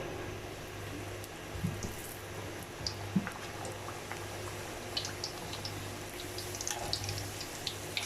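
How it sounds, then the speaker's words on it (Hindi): Puris frying in very hot oil: a faint, steady bubbling crackle with scattered small pops, continuous throughout with no talking. "तेल जो है वो फुल गरम है और इसके अंदर मैं डाल रही हूँ पूड़ी को"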